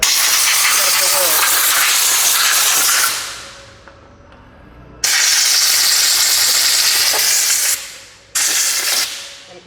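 Power Tune carburetor cleaner sprayed onto a small outboard motor carburetor, loud close aerosol hissing in three bursts separated by short pauses, with faint background noise between sprays.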